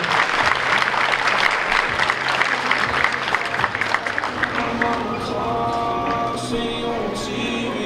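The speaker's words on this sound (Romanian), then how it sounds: "Vă rog să o aplaudați pentru perseverență, pentru dorința de a fi alături de voi." Audience applause at a festive school ceremony fills the hall, a dense steady clapping from a crowd lasting several seconds, with a voice speaking over the last part as it begins to thin out.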